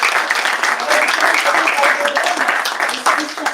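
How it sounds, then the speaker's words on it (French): Audience applause at the inauguration of a drone innovation center, a dense, steady crowd clapping that fills the whole stretch, loud and close, dipping briefly near the end before swelling again. "On peut vous applaudir."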